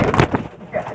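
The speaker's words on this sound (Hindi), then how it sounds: "ये कुछ और कबूतर दिखा रहे हैं जी" Pakistani pigeons on a rooftop give a brief, close, throaty coo that is loud for a moment and then fades.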